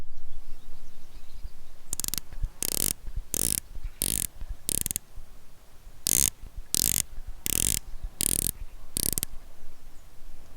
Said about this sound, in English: the bezel is 120 clicks unidirectional with a ceramic bezel insert